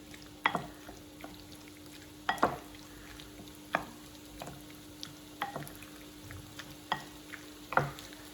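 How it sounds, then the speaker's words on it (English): A spoon tosses Vietnamese salad in a bowl, making soft, intermittent scraping clinks roughly every second, close and quiet over a faint steady hum. "let's use a spoon, toss that all around"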